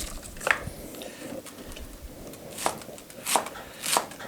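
A knife chopping cabbage for sauerkraut on a board, a handful of irregular crisp cuts, close and moderately loud over a soft background rustle.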